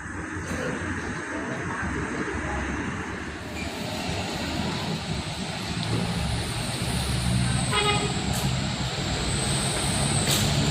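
A Sumber Harapan bus, a Korean-chassis coach, rumbles slowly through the Alang-alang Lebar bus terminal, its low engine drone steady with a hiss of air brakes and other vehicles idling nearby.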